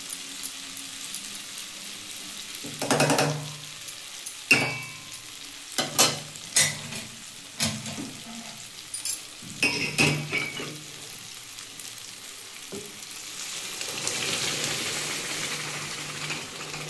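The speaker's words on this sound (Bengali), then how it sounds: "আমার পেঁয়াজটা ভাজা হয়ে গেছে, টমেটোটা ভাজা কষানো হয়ে গেছে।" Onion and tomato frying in a pan, a soft steady sizzle broken by several sharp scraping stirs, with a louder hiss building toward the end.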